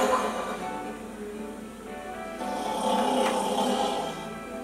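A storyteller's voice imitates a sleeping giant snoring, a drawn-out rasping rumble that swells louder toward the end, heard alone and close with no words spoken.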